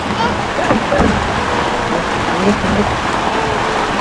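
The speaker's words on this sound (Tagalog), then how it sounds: "napakalakas ng ulan mga idol. Biglang bumuhos." Heavy rain pouring down in a sudden downpour, a dense steady hiss close by, with voices faintly audible beneath it.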